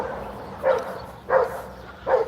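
Dogs bark from nearby in three loud, evenly spaced barks, each separated by a short pause, over faint background noise.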